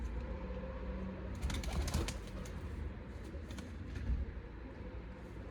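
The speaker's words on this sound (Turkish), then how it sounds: "Ufaktan ufaktan kuşlar çıkmaya başlıyor." Pigeons leave a small backyard loft in short bursts of wing flapping. A cluster of flutters comes near the middle over a low background with soft coos, and the whole is faint.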